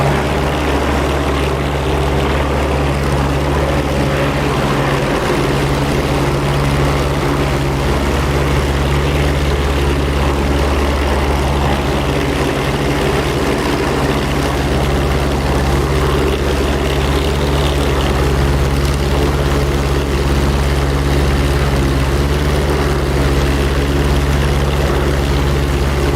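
A P-47 propeller fighter in a flight simulation game, its radial engine producing a loud, steady low drone with constant propeller hum throughout, uninterrupted and without voices.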